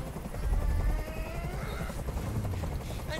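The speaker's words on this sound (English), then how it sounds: "tell that helicopter to get out of here" A helicopter hovers overhead in the Detroit: Become Human video game, a steady throbbing rotor drone with a low rumble that holds for a few seconds, mid-distance and fairly loud, with no speech.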